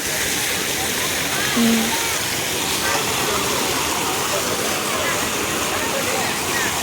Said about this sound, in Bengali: যা বিমানের জাদুঘর বলা হয় ঝর্ণা অনেক সুন্দর